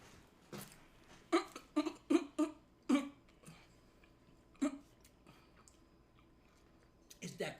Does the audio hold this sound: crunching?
yes